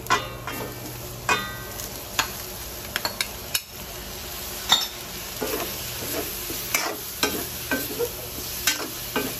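Fresh shrimp stirred in a sizzling pan of curry, a steady frying hiss broken by repeated sharp clinks and scrapes of a utensil against the pan, close up with no talking.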